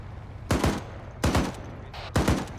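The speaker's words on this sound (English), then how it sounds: "You need to fire in 3 to 5 round bursts." Machine gun in ArmA 3 firing three separate short bursts, each a quick cluster of loud, sharp shots with brief pauses between.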